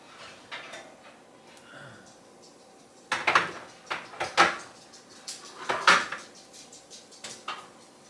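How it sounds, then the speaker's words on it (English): A pan of French toast being taken out of a home oven and a new batch put in, with several sharp metallic clanks and rattles of tray and oven rack between quieter shuffling handling noises. "we're gonna go ahead and pop them out of the oven"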